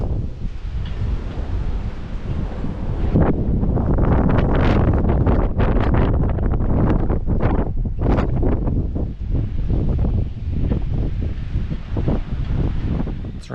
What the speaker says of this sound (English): The winds have been sort of sporadic, gusting quite a bit, but now the time between gusts is getting shorter.